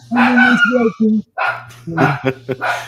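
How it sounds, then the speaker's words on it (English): A small dog barks sharply and repeatedly indoors as a garage door opens, close and loud, a burst of yips and bow-wows mixed with a person talking over it. "my little dog is currently barking because the garage door is opening."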